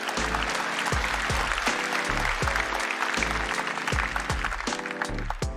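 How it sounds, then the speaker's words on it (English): Audience clapping at the Galaxy Note 9 launch event, sustained applause from a large crowd with a deep, repeating musical bass pulse underneath. "You can clap."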